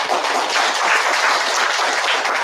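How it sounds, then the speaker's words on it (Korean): A church congregation applauding in thanks, a dense and steady wash of many hands clapping at once, sustained and fairly loud with no voices on top. "참어머님께 감사의 박수를 한번 부탁드리겠습니다."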